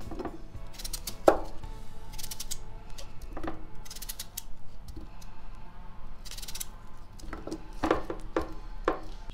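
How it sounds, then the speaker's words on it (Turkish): A knife slices potatoes into thick, chip-style pieces, with a series of irregular sharp taps and clicks on a cutting board, some louder than others, over a low steady background hum. "Şu şekilde, şu kalınlıkta doğruyoruz patateslerimizi."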